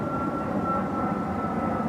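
An airplane drones overhead as a steady, continuous roar with a faint sustained tone. It holds at an even level throughout with no voices.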